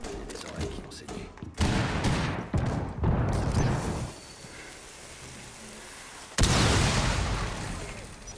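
A cluster charge detonates in Rainbow Six Siege, a string of loud, rapid blasts crackling through a room in bursts, with a final sharp burst near the end and rumbling debris between.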